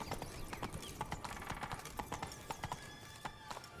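Hooves of Roach, Geralt's horse in The Witcher 3, clip-clop in a steady trotting rhythm, a dense run of sharp hoof strikes over a busy game soundscape.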